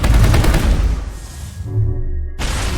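Rapid gunfire with explosive ammo in the video game Mass Effect, a dense loud barrage of overlapping blasts and booms that cuts off abruptly and then resumes.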